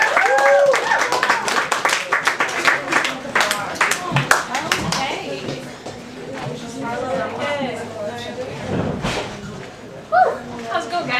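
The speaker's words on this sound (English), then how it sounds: "Let's get some big round of applause for Karla Mellett, everybody." Clapping and applause from an audience at a comedy open mic, loud and close, with talking and cheering mixed in before it thins out.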